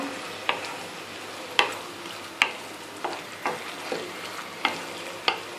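Chicken chilli gravy frying in a pan on a gas stove, with a steady low sizzle and about nine sharp scraping strokes of a spoon stirring it at an uneven pace, close up and with no voices.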